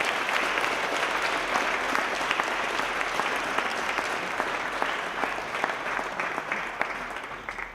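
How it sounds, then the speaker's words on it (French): Warm, steady applause from a university gathering audience in a hall, dense continuous clapping from many people at a moderate, even level with no talk over it. "vous l'applaudissiez pour le remercier de tout ce travail qu'il a fait pour vous."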